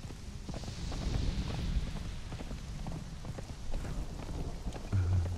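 Horse hooves clip-clopping in the video game Conan Exiles, a continuous run of muffled hoofbeats at a steady mid-distance level, with occasional louder thumps and no speech over them.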